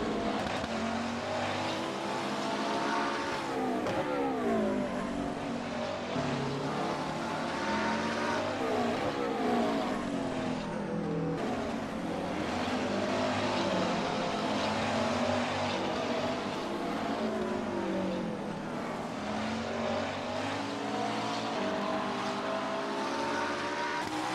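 Engines of McLaren 650S race cars lapping the Zandvoort circuit in the racing game rFactor 2 drone steadily throughout, with shifting pitch sweeps as cars accelerate and pass, a dense continuous loud roar.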